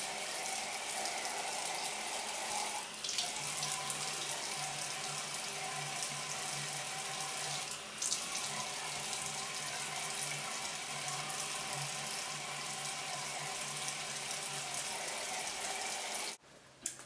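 Warm tap water runs steadily onto a cloth at a sink, a continuous even splashing hiss with no talk that cuts off near the end.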